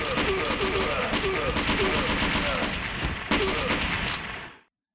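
Gunfire from the arcade shooter Virtua Cop 2, a dense, loud run of rapid shots with sharp repeated bursts over a busy game soundtrack, ending abruptly.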